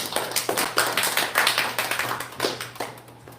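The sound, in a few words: congregation applauding in welcome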